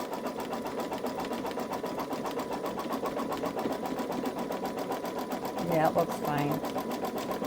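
A Babylock Solaris embroidery machine runs steadily, laying down satin stitch and top stitch with a fast, even mechanical chatter close by, while a person speaks briefly near the end.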